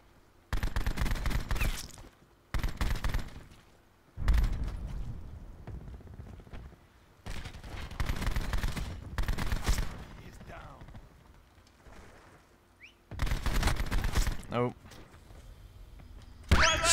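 Bursts of gunfire from the Echohawk dual bore gun in a video game come in several separate volleys, each about a second long, loud and rapid, with quieter gaps between them.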